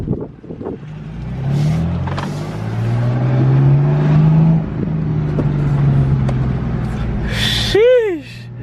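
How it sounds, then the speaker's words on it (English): A BMW F80 M3 with a manual gearbox drones as it drives and pulls through a gear, its engine note rising and settling under excited talk from inside the cabin. "Finally get to drive the car now."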